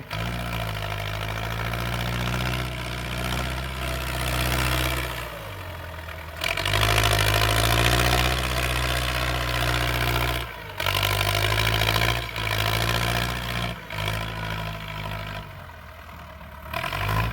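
A Ford 6600 tractor plows a watermelon field, its diesel engine loud and continuous with a steady low drone that rises and falls as the load changes, with brief dips in between.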